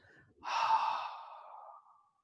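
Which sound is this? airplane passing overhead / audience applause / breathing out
breathing out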